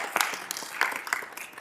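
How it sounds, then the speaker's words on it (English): An audience at a city council meeting claps briefly after a chamber of commerce scholarship announcement, a short scattered burst of hands from a modest crowd in a hall. "yeah, that's worth clapping."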